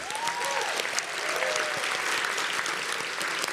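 Steady applause from a large audience at a national conference awards gala, honouring the event's sponsor, with dense continuous clapping filling the room and faint voices scattered beneath.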